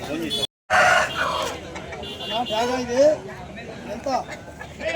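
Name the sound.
native country rooster at a market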